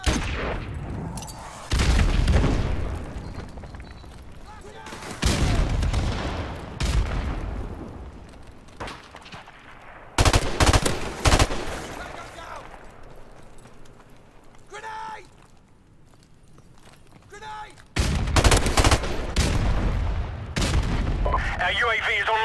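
Bursts of gunfire and a stun grenade blast from the World War II shooter Call of Duty: WWII, several loud, sharp volleys separated by quieter gaps, with game voice callouts between them.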